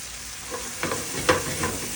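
Food fries in a pan while cooking for an animal-based banana pudding recipe, giving a steady close sizzle with a few brief stirring scrapes and clinks.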